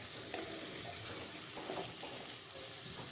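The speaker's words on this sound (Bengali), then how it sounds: "1 চামচ নুন দিয়ে একটু নেড়ে দিচ্ছি" A spoon stirs mutton kosha in a pot just after salt goes in, a faint, steady sizzle with soft scraping strokes repeating close by and no talk.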